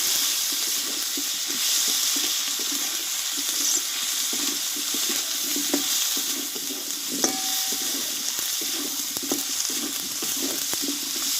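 Potatoes sauté in a pan for a vegetarian green jackfruit curry, a constant hissing sizzle broken by scattered scrapes and clinks of stirring, with no one talking.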